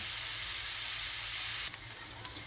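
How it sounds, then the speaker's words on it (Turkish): Carrots sizzle in hot olive oil in a pan, giving a dense, steady hiss close up with a few brief stirring clatters near the end. "Isınan zeytinyağımıza havuçlarımızı dökelim."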